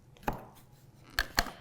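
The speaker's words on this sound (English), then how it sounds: "I also cut the ends off too before I pull it apart." A knife chops down onto a board three times while trimming the ends off a kiwi fruit, sharp close knocks with quiet pauses between them.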